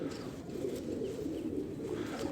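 A pigeon of a closed-eyed Indian fancy breed coos steadily and close by, a soft continuous low-pitched warbling rumble that runs through the whole stretch with no talk over it.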